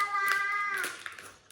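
A cat meows once in a long, drawn-out tonal call that bends downward, fairly close and clear, with a few faint taps and household noises trailing after in a quiet room.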